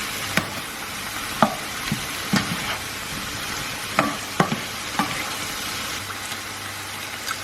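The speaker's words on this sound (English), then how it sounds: "and hoisin sauce, oyster sauce, give that all a good mix through," Broccoli and bacon stir-frying with hoisin and oyster sauce: a steady low sizzle with several sharp spatula scrapes and knocks against the pan, spaced irregularly, close and fairly loud, no talking.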